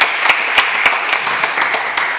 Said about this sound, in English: Clap it up for John